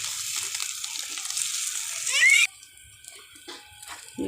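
Anda shami tikki patties fry in a pan with a bright, steady sizzle that swells briefly and then drops to softer, intermittent crackling, while faint voices sound in the background.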